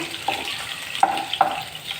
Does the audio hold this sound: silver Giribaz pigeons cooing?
no